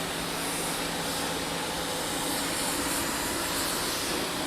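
Steady, loud water spray rinses a car washed with a ceramic car wash, a continuous close hiss with no pauses or talk.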